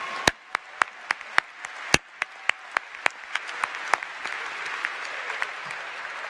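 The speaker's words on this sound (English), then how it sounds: "Yeah, we can applaud for that." Sparse, sharp individual claps ring out at a university commencement ceremony, a few distinct hands at first before a softer spread of audience applause builds underneath and fades.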